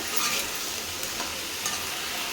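Eggplant and potato pieces frying in hot oil for a Tamil brinjal kadaiyal, a continuous soft hiss and crackle, close but fairly quiet, with no talking.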